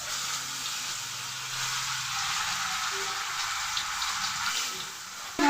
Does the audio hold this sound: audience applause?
no